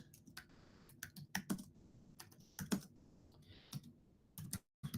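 Keys clatter on a computer keyboard as an address is typed into an office form, with quick irregular bursts of close, crisp clicks separated by short pauses.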